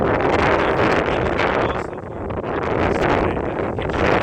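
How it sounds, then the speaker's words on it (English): Heavy wind blows outdoors on a snowy day, a loud, steady broadband roar buffeting the microphone, surging and dipping slightly without pause. "Heavy wind."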